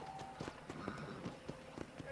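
Rhythmic horse hoofbeats clop along at a steady gallop in the video game Red Dead Redemption, moderately close, with a voice speaking over them and faint game ambience.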